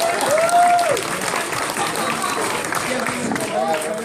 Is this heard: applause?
yes